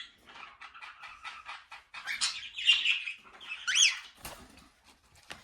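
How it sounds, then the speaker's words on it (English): Several small pet birds chirp and tweet indoors in quick bursts, with a few louder, sharper calls in the middle, close by and with no talking. "Oh, there's some more birds."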